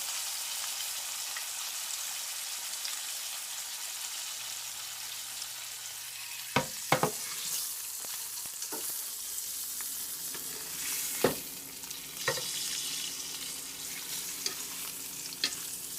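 A pork chop frying in a pan gives a steady hissing sizzle throughout, with a few sharp clinks and pops from the pan, close and without speech.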